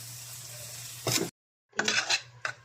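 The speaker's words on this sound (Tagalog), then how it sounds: "Haluin lang natin." A utensil stirs and scrapes instant chopsuey noodles in a pan in a short burst, then a brief silence, then more clattering stirs against a low steady hum.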